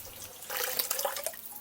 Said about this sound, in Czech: naberu ještě vodu z léčivé studánky